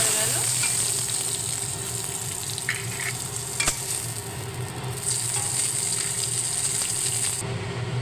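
Steady sizzling of a hilsa fish head frying in hot oil, close and continuous, with a brief clatter midway.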